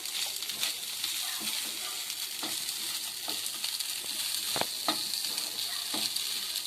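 Idli upma frying in a pan with tempering spices, a steady low sizzle close by while a spoon scrapes and stirs in irregular strokes, no voices.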